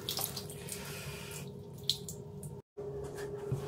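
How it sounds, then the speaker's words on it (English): Water running and sloshing as a wool blanket is soaked for a wet-warmth test, a steady close wash of liquid with a brief dropout near the end. "giving the blanket a good soaking, or enough of the blanket for the test to soak through"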